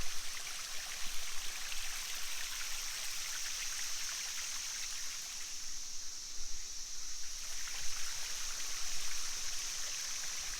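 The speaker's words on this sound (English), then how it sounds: "I like these spots where the water doesn't really fall, it just kind of drapes down the rocks." Steady, soft rush of running water draping and trickling over rocks at Matthiessen State Park, Illinois, continuous and close, with no voices.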